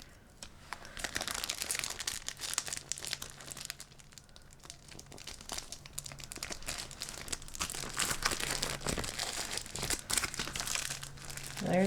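Tape being handled and pulled around plastic foot peeling mask booties, a near, busy stream of crinkling and crackling with intermittent tearing rustles, no talk.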